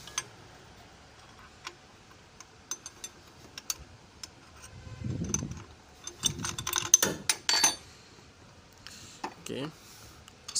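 A 14mm spanner ratchets and clicks against the bolts of a car's power steering pump with irregular metallic ticks and scraping, a busier stretch in the middle, and a voice talking now and then.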